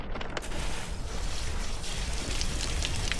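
A garden hose sprays water steadily onto and underneath a raised Yamaha 15HP two-stroke outboard engine, giving a close, continuous broadband hiss.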